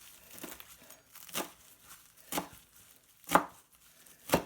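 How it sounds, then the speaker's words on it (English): Spruce tips and mint are rough-chopped with a knife on a board, five or six sharp, spaced crunchy chops with brief leafy crinkles between, close and alone. "so let's give this a rough chop"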